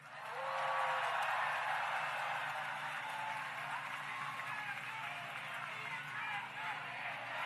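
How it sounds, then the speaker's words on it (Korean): A large crowd at an outdoor political rally in Gimpo claps and cheers in a sustained, dense roar that stays loud and even from start to finish. "마지막 박수 한번 치세요"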